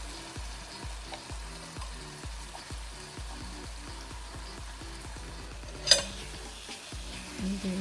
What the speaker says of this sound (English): And give it a stir.